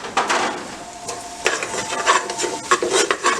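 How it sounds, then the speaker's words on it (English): Chicken and garlic are stirred in a pan, with a soft sizzle under repeated scraping strokes of a utensil against the pan, close and uneven, the loudest scrapes coming in short bursts. "Stir that again"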